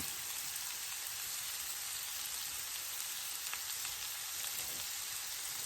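Shrimp for shrimp and grits sizzle in a frying pan on low heat. The fry is a steady, close hiss with faint stirring scrapes, and no one speaks.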